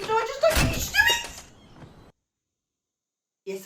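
A creaking, thunking door opens in a horror TV series, heard near and fairly loud with voices around it, then a stretch of silence before a brief sound returns at the end.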